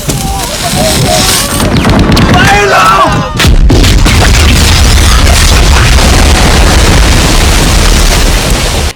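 A heavy explosion from a war film booms through a mix of battle noise and gunfire, with a sharp blast near the middle followed by a deep rumbling roar; voices talk over parts of it.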